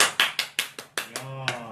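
Hands clap rapidly about nine times in an uneven, quickening rhythm, close and crisp indoors, with a voice briefly speaking over the last claps.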